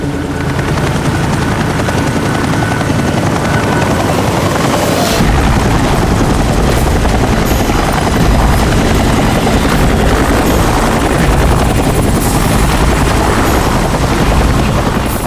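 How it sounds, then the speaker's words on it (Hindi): A low-flying helicopter roars loudly and continuously overhead, its rotor thump and engine noise filling the whole stretch with a deep rumble that grows heavier partway through. "ये हेलीकॉप्टर इतना नीचे क्यों उड़ रहा है?"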